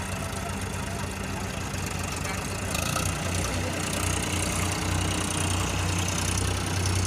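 A Powertrac Euro 50 Plus tractor engine idles with a steady low, throbbing rumble that stays close and even throughout, with no one speaking.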